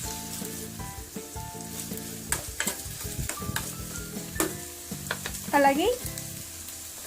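Thinly sliced onion crackles and sizzles in a pan while preparing ragi roti, close frying hiss with clinks and stirring taps, a brief word spoken partway through, and soft music underneath.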